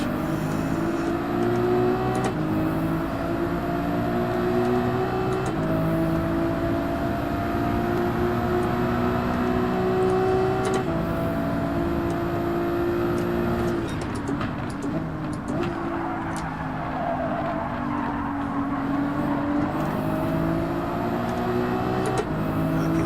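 Race car engine on soft tires in Gran Turismo 7, a loud sustained drone that climbs steadily in pitch through gear changes, shifting briefly and settling into another long rising pull, with other cars audible around it.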